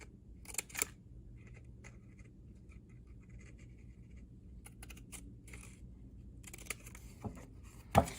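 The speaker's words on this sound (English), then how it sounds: "use your scissors and just use the tip, you can actually cut the claws out pretty simply" Quiet, intermittent snips of scissors tip-cutting paper claw shapes for a groundhog collage, a few crisp clips separated by pauses, with a sharp click near the end.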